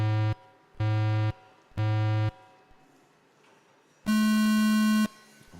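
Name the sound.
race start beeps at a FPV drone race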